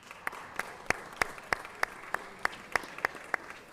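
At a Los Angeles City Council meeting, a single pair of hands claps at an even pace for firefighters. About a dozen crisp claps sound over a quiet room hum.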